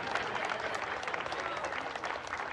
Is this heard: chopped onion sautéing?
no